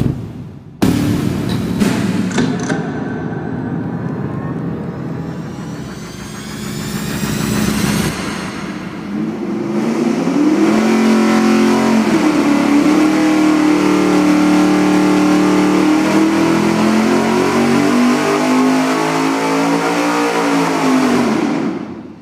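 A car engine on a dyno with open headers and a 2.5-inch collector extension starts up, idles roughly, then revs hard and holds a loud sustained high-rpm roar for about ten seconds before backing off.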